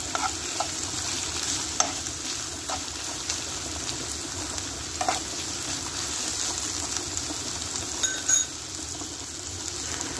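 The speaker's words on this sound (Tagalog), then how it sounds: "Haluin lang siya" A spoon stirs vegetable spaghetti sauce in a sizzling pan, scraping and clinking now and then over a steady fry. No voices.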